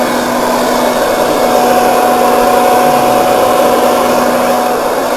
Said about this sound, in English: Turn on this other inverter, and this has got the blower hooked up to it, I think.